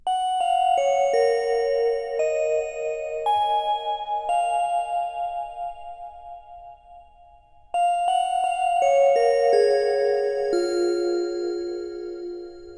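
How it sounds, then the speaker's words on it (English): A sampled Omnisphere synth bell plays a simple melody for a vintage soul sample, with clear ringing notes, some held and decaying, then a second phrase starting again. No voices, just the bell tones alone. "I pulled out a bell from Omnisphere"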